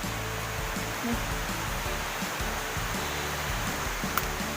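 Tad waterfall pours in a steady, broad rushing roar of falling water, constant and close, filling the whole stretch without talk.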